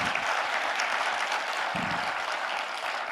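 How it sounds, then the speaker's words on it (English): Audience at a security dialogue event applauds in a steady, dense wash of clapping that fills the room, sustained and even throughout with no talk over it. "Give a round of applause to General Poomjaya, please."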